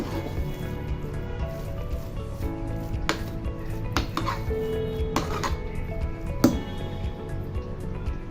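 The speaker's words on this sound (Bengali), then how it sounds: "এখন আমি খুব ভালোভাবে নেড়ে চেড়ে মিশিয়ে দিচ্ছি" Vegetable and lentil khichuri cooked in mustard oil being stirred in a pot, a spoon scraping and clanking against the metal in irregular strokes over a thick, wet squelching, close by.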